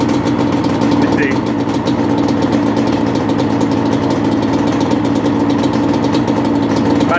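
A Redline slate port engine with a hot rod crank idles steadily through its first-start warm-up heat cycle, a constant close buzzing drone under someone talking.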